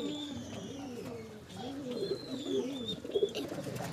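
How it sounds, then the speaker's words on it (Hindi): Several pigeons coo in a low, rolling, repeated rhythm, close by and steady, with faint higher bird chirps scattered above. "ये सारे कबूतर हैं।"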